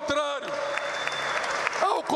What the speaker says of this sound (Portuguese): pedir uma salva de palmas ao governador humano